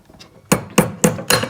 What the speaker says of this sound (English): you can hammer it like this